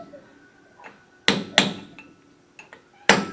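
Several sharp metallic hammer strikes, irregularly spaced, ringing briefly, with quieter taps between them; close and loud. A metal lip is hammered into place during disc brake work on a 1968 Oldsmobile Cutlass.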